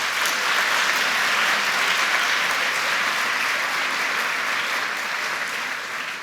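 Sustained audience applause fills a school awards day ceremony at a middle school, a dense, steady wash of many hands clapping at once that stays loud throughout and eases only slightly at the very end.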